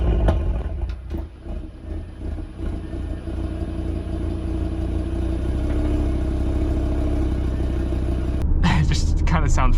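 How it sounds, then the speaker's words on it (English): Audi TT RS with a Stage 2 tune idling up close after starting, a steady deep engine rumble that holds evenly and ends in a sharper, louder burst. "It does make this like weird, like it sounds like the car's hesitating when you first start it up."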